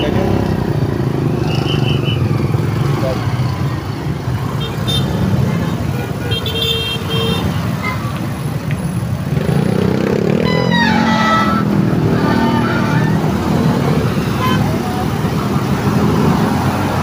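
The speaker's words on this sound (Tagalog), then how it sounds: "Traffic na yun." Steady road traffic with cars and motorcycles passing close by at a busy crossing, a continuous loud rumble of engines, a few horn toots, clattering, and a person talking over it.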